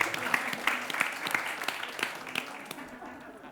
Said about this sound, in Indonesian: boleh kita berikan tepuk tangan untuk PT Bukit Asam